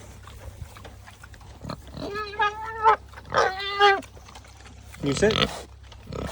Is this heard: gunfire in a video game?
no